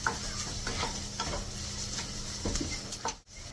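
A Kerala-style curry is stirred in a pan over steady, close sizzling, with soft scraping strokes of the spoon against the pan recurring throughout.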